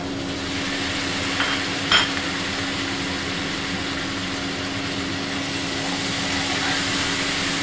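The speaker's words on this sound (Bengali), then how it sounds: "এখন চিংড়ি মাছের সাথে হলুদ আর লবণ দিয়ে আগে থেকে রেখেছি এখন দিয়ে দিব" Raw prawns seasoned with turmeric and salt hit a hot frying pan, giving a steady, even sizzle with a brief clatter of stirring early on under a constant low hum.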